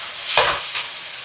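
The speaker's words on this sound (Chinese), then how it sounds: "加入豆芽，快速翻炒约1分钟" Bean sprouts and carrots are tossed in a hot wok, giving one quick loud rushing sweep over a constant sizzling hiss, close by, followed by a fainter second stir.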